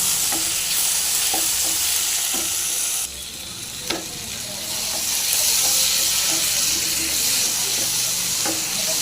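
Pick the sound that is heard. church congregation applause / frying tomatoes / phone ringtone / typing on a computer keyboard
frying tomatoes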